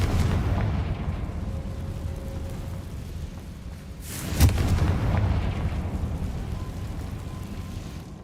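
A Confringo explosion spell is cast in the video game Hogwarts Legacy, a booming blast with a sharp peak midway, set over a dense rumbling game soundscape.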